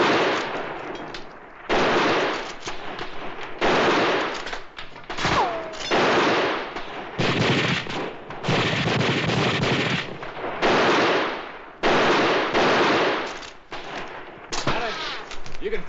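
Rifle gunfire in a gunfight in an old Western film: a rapid, loud series of close shots, firing in bursts with brief gaps and sharp echoing cracks.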